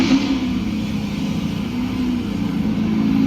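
A car engine rumbles in a loud sustained drone with a low steady hum and slight swells in pitch, close and unbroken throughout.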